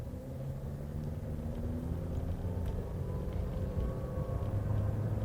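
A 1.5-liter naturally aspirated gasoline engine in an MG ZS Alpha crossover with a 4-speed automatic pulls steadily under acceleration, a continuous low cabin drone and road rumble that gradually builds in loudness, with no talk.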